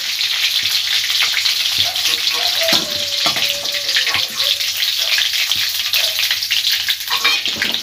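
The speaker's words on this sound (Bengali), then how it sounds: "বাদ বাকিগুলো এরমভাবেই আমি ভেজে নেব।" A batch of prawns sizzles loudly in oil over medium heat, a steady crackling hiss with occasional scrapes and pops, close and continuous.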